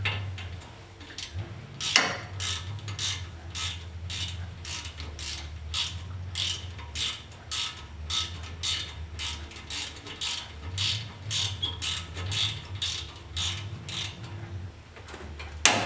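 A ratchet and socket work on the front hub of a 2008 Chevy Colorado 4x4, giving a steady run of quiet, close clicks in regular back-and-forth strokes for about fifteen seconds, with no talking.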